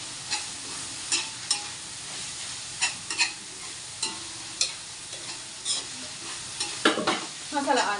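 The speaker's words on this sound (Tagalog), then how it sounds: "pinapupula pa yung sibuyas bawang" Onion and garlic sizzle in a hot pan while being stirred, with repeated scraping strokes of a utensil at an irregular rhythm, close up and alone.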